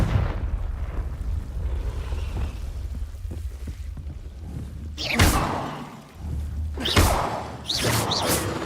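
A Confringo fire spell in Hogwarts Legacy goes off as loud whooshing blasts with booming impacts, arriving in a few separate bursts over a rumbling background.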